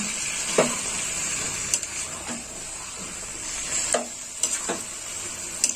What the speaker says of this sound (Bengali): আমি ভালো করে মাংসটা কষে নেব